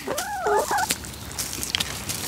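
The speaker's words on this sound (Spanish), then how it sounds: "5 gallinas aquí comiendo tranquilitas aquí haciendo la fiesta" Five hens feeding in a farmyard call out with a short gobbling, warbling burst near the start, followed by scattered scratching and pecking noises nearby and no voices.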